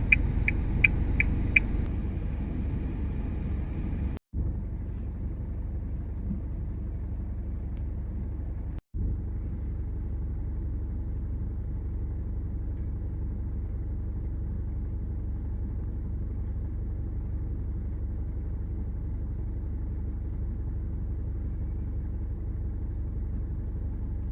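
Vehicle engine rumbling steadily on a winter ice road while a stuck car is pulled out, a low continuous drone with a few faint clicks at the start and two brief dropouts.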